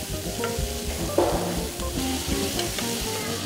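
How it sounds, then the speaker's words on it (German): Spring onions and chopped onions sizzle as they are sautéed in a pan, a constant loud frying hiss mixed with stirring and occasional scraping knocks, with no speech. "Tun wir die feinen Frühlingszwiebeln und Zwiebeln, die ich geschnitten habe, rein zum Anrösten."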